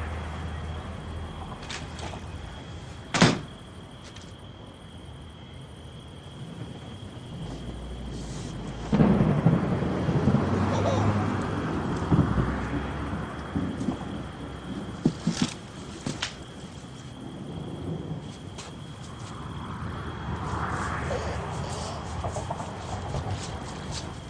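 Steady rain hisses outdoors, with occasional distant rumbles and a few sharp knocks, building slightly in intensity partway through.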